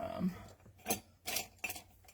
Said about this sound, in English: Or my scissors.